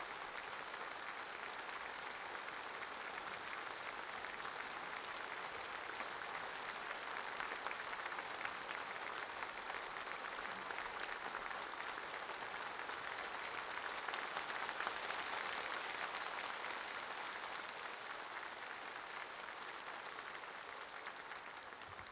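Warm, sustained applause fills a large congress hall at the 19th CPC National Congress, a broad even wash of clapping from a big audience holding steady from start to finish.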